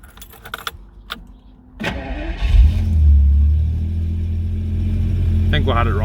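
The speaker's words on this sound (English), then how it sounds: "but we're going to do an engine start now." Keys jangle before a 1986 Jaguar XJS-C 5.3 V12 H.E. automatic cranks and fires, its engine catching and settling into a steady, slightly raised idle that rumbles on, with people talking nearby.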